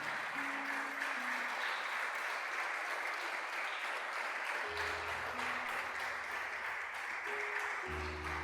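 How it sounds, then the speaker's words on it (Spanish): A church congregation applauds in steady, sustained clapping that fills the space at even loudness throughout, with low background tones underneath and no speech. "Dele un aplauso al Señor, por favor."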